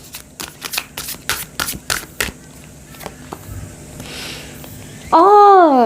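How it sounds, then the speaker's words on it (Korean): Tarot cards are drawn and shuffled during a reading, producing a quick series of sharp, close riffling snaps that give way to a sustained bright tone near the end. "좀 기다리는 동안 좀 힘낼 수 있는 카드 한 장 뽑으면"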